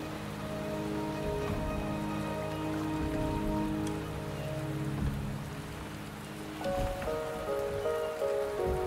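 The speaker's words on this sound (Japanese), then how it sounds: "雨足が弱まってきたね。" Steady rain from the video game Wuthering Waves, a constant dense hiss of drops on surfaces, with soft tonal game music running beneath it and no speech.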